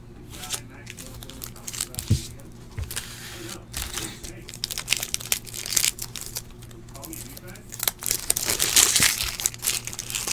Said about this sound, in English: Almost done opening packs here.